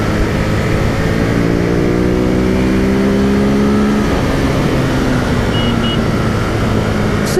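A 2018 Ducati Monster 821 motorcycle accelerating hard, its engine note climbing steadily in loud, close harmonic whine through several seconds before easing off and fading slightly.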